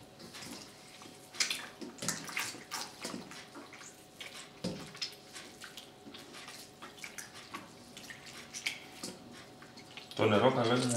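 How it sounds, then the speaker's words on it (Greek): Sourdough starter is stirred and dissolved by hand in lukewarm water, giving soft wet sloshes and drips, followed by a louder burst of running water near the end while a person talks throughout. "θα την διαλύσουμε μέσα στο νερό"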